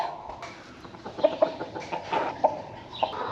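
Chickens clucking in short, scattered bursts over a low, steady background murmur, a few sharper calls standing out.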